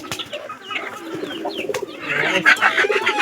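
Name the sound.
pigeons cooing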